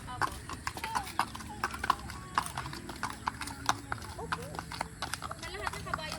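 Horse hooves clip-clopping steadily during a ride with a young girl, a close, regular clatter of hoofbeats running throughout beneath people talking.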